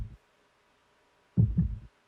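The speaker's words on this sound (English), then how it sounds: "I just chose like real samples from Splice of a Heartbeat" A real sampled heartbeat thumps twice, a short soft beat at the start and then a deeper double thud after a pause, low, muffled and isolated against silence.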